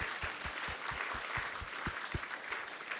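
A temple audience claps in a steady, rhythmic beat, fairly faint and even, with the hall's murmur underneath.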